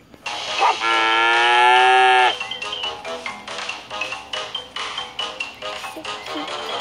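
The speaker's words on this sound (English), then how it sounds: "Come on, cow, show me what you got." A cow moos loudly in a dog simulator video game, one long drawn-out low call near the start, followed by a string of short clicks and game sounds.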